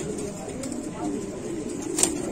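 A pair of Siraji pigeons in a fancy pigeon shop make a low, continuous cooing murmur, with a brief sharp click near the end.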